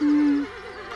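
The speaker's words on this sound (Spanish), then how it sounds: "¿Un caballo?" A horse neighs loudly and close by in a cartoon, starting as a steady high whinny and then breaking into a shaky, wavering tail that fades over about a second.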